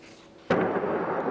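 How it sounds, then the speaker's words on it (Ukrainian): A single sharp blast from shelling in Horlivka bursts out after a quiet moment, followed by a lingering rumbling decay, heard from a distance with no speech. "Чути, як лунають вибухи."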